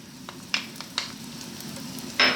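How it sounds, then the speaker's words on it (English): Sliced onions and garlic sizzle in hot olive oil over medium heat, a steady crackle punctuated by a few sharp spits and stirring scrapes, with a louder hiss burst at the end. "We're going to drop in our sliced onions."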